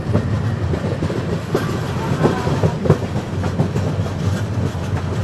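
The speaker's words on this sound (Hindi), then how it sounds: "डानकुनी स्टेशन हम लोग पहुंच रहे हैं और उसके पहले ओवरटेक कर रहे हैं विवेक एक्सप्रेस को।" Rumbling and rhythmic clickety-clack of wheels on rails from the Sealdah Rajdhani Express, heard from on board as it overtakes the Vivek Express near Dankuni station, with a steady close-up roar and periodic clanks.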